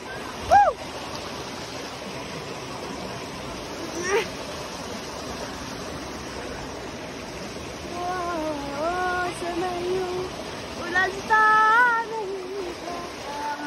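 A stream's water rushes and burbles continuously close by, with voices calling out and chattering over the flow.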